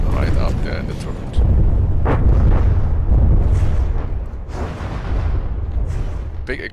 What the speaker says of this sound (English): Big explosion here.